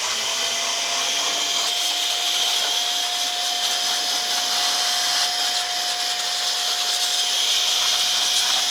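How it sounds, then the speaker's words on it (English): Dust is blown and cleaned out of a Lenovo ThinkCentre desktop PC with a steady, close, hissing blast of air and a high whine that runs unbroken for nearly nine seconds with no voices. "so now we can clean the dust out of this PC"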